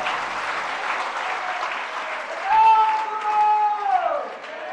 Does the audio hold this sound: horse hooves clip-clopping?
no